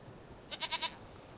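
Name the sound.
goat bleating in video game The Witcher 3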